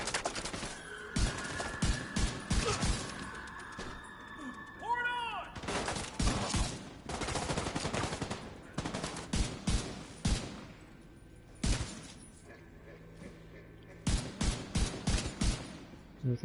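Gunfire in a video game: bursts of rapid shots and heavy blasts come in loud clusters separated by quieter gaps.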